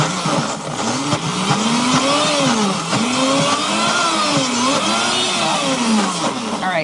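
A food processor pulses hardy greens into pesto, its motor whirring loudly and steadily with a pitch that swoops up and down as the blades spin up and slow.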